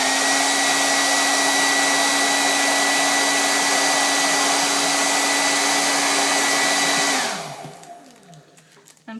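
A blow dryer runs steadily at close range with a strong whine and airy roar while heating a Jamberry nail wrap, then switches off near the end and winds down into quiet.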